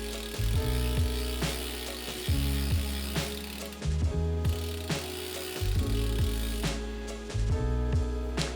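A bicycle pedal threaded into a crank arm by hand gives a repeating ratcheting click, with regular bursts of metallic ticking and clunks, close and fairly loud, with no talking.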